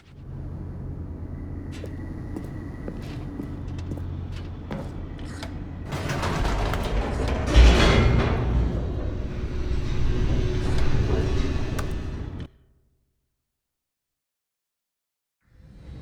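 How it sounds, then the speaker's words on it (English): Game elevator in The Stanley Parable descending: a steady mechanical rumble that swells and grows rougher midway, then cuts off abruptly into silence near the end. "The elevator raced downward, plummeting towards an unknown fate."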